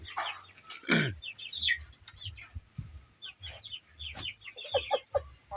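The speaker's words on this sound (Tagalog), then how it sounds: "pagkain tayo ng mga manok" Several chickens in a poultry pen cluck and squawk nearby in a busy, irregular chorus while being fed, with a few sharper calls and soft rustling between them.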